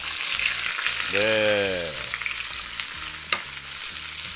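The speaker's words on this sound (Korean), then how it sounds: "기름을 좀 더 부어주고 여기다가 준비한 모든 재료를 한꺼번에 넣어줍니다." A loud, dense sizzle of tomato curry ingredients hitting hot oil in a pan fills the clip, with a brief voice and a sharp clatter partway through.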